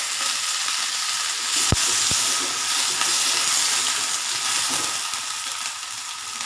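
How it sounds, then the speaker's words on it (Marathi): Potatoes sauté in a pan for bhagar khichdi, giving a loud, continuous sizzle with a couple of sharp taps from a spoon on the pan early on. "बटाटे चांगले परतून घेऊ।"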